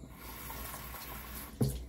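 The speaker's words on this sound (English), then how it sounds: "Just wash my face." Water running at a sink while a face is washed, a steady close splashing flow ending in a brief louder splash.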